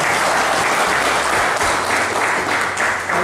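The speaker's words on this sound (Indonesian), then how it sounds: "Boleh aplaus sejenak untuk" A room full of people claps at a company site visit by an environmental agency, a dense, loud, continuous burst of applause lasting a few seconds.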